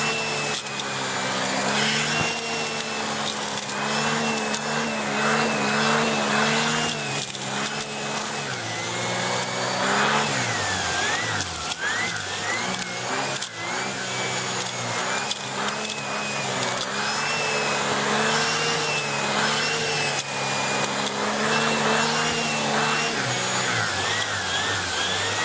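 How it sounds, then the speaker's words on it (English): A Shark Powered Lift Away NV681UKT vacuum cleaner with turbo brush runs at maximum suction, a loud steady whine and airflow roar with harmonic hum held throughout, dipping briefly mid-run as the brush is moved. "And there's more suction power, that's maximum."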